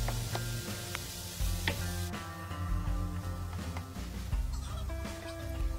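Sliced bell peppers and mushrooms sizzling in a paella pan for vegan paella, a soft, steady crackle under a few tonal sounds, close and moderately quiet.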